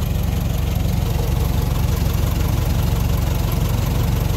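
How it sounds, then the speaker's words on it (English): A Ford Model T engine, fitted with a two-speed rear axle and running on its magneto, idles steadily with a loud, close, even low chugging rumble throughout. "So we've got the car idling."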